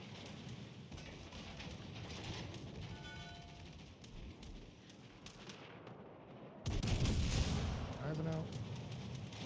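Heavy ship guns boom during a naval battle in World of Warships: Legends, with a loud burst of gunfire and rumbling blasts near the end, under steady game noise and people talking.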